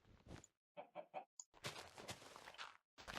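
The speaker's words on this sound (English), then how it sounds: "That's not how chickens sound." Chicken clucking in the Minecraft video game: a short burst of game clucks and squawks, a quick triplet of clucks, then a longer stretch of overlapping clucking, fairly close and clear.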